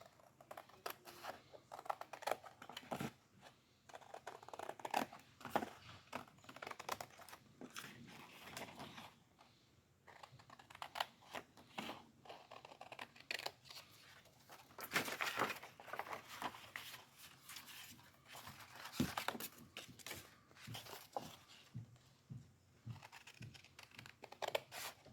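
Scissors snip through a paper costume pattern piece for a Hamilton costume (Simplicity S9252), giving a run of close, crisp cuts and paper rustles in uneven bursts with quiet pauses between.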